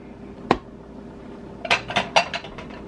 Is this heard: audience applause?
no